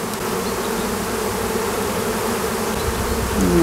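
A dense, steady buzzing of many honey bees around hive frames fills the air up close, loud and continuous without pause.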